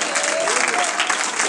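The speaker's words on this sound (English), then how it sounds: "let's applaud him, let's reveal him, let's honor him with our praise" A church congregation applauds during a worship service, dense continuous clapping with a raised voice running over it throughout.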